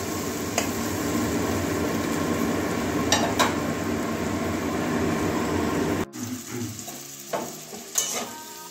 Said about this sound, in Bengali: দু 3 মিনিট ভেজে নেব আলু বেগুন